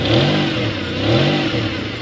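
A Toyota 1MZ-FE V6 engine runs with an exhaust leak at the manifold, idling loudly and revving twice in smooth rising swells, with a rough, puffing edge to the exhaust note.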